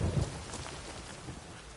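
Rain and thunder in The Witcher 3: Wild Hunt, a steady wash of falling rain with a low thunder rumble at the start, moderately quiet and without voices.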